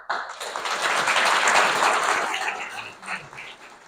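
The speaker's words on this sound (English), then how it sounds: "You guys deserve a huge applause because you guys worked your butt off." Banquet audience at an awards ceremony applauding, a dense wash of clapping that swells and then tapers off.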